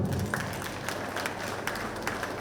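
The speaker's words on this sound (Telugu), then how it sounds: "ఒకసారి ఆ ర్యాలీకి ఒకసారి గట్టి క్లాప్స్ కొడదాం" Rally crowd in Guntur clapping together, a dense, steady patter of many hands held at an even level for the whole stretch, with a few sharper peaks in the noise.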